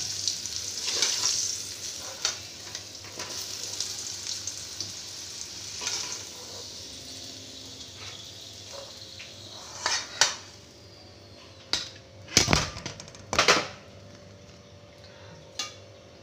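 Potatoes hiss gently in hot oil as they are lifted out, the soft sizzle broken by several sharp clinks and scrapes of a utensil against the pan, loudest near the end. No one talks.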